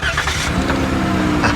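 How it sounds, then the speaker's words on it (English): A car engine cranks and catches after the car was struck by lightning, then runs with a loud, rough, close roar throughout. "So let's see if she starts up."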